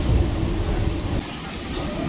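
Interior rumble of a Howrah–Digha local train in motion, a steady loud low-frequency roar of wheels and carriage that eases slightly after the first second, with no talk.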